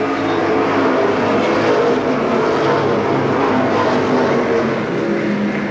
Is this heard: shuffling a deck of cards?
no